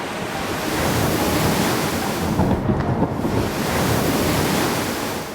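Stormy open sea roars with heavy crashing waves and gusting wind, a loud continuous wash that swells and dips briefly in the middle before building again.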